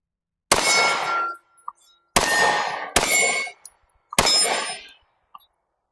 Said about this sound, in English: Let me try with the 124 grain full metal jacket